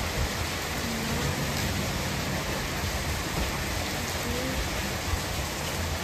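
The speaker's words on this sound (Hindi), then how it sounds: "पानी गिर रहा है, बहुत तेज़ बारिश हो रही है" Heavy rain pours steadily outdoors during a strong storm, a dense, continuous hiss and patter with no break across the whole stretch, close and loud.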